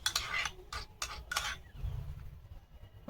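Chicken marinade being mixed in a bowl, with several quick scraping and clinking strokes of a utensil against the dish up close, then softer stirring, with no talking.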